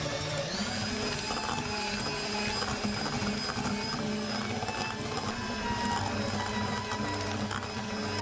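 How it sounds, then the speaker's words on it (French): An electric hand mixer whisks chocolate ganache for a praline Christmas log cake, a steady whirring motor hum that runs without a break, at moderate loudness throughout. "On va utiliser le fouet électrique."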